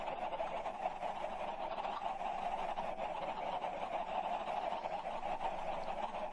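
Chickens in a video game make a steady, dense squawking and honking din that fills the whole stretch at moderate loudness, with no pauses and no talk over it.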